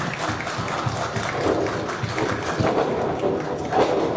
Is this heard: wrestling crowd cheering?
yes